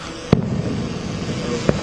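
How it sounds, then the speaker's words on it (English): Two sharp firework bangs rise over a steady roar of crowd and ambient noise at an outdoor presidential inauguration celebration, spaced over a couple of seconds. "We are still witnessing fireworks here."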